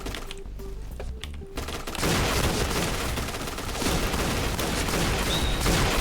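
A Gatling gun in the shooter Point Blank fires a loud, continuous rapid stream of shots that builds to a sustained dense roar after a brief stuttering start, close and unbroken to the end.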